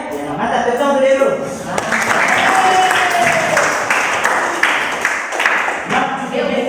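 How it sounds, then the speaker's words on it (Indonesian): Students in a classroom clap together in a loud, continuous burst of applause, with children's voices and cheering rising over it throughout. "Tepuk tangan dulu"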